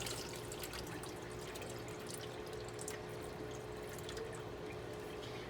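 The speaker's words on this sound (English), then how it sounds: "You want to drain all that water that you have in there." Water drains steadily out of a pot of washed rice, a soft continuous trickle and splash heard close up in a kitchen with no talking, fairly quiet throughout.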